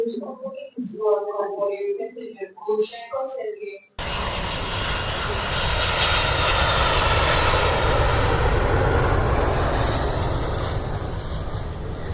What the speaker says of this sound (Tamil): வந்துச்சு நம்ம ஃப்ளைட்டு ஏர் அரேபியா